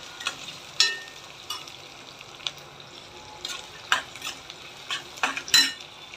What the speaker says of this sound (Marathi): आता कांदा पण हे कांदा परतवते